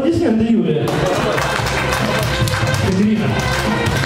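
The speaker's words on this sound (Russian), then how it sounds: "Хорошо, аплодисменты, Юлия." Steady applause fills the room from the audience at a contest during a village wedding, dense and continuous, with voices mixed in.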